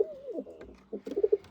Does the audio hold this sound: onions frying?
no